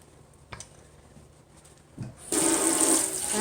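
Tap water gushes into a stainless steel sink for a rinse, starting abruptly after a couple of soft clunks and then running steadily and close by.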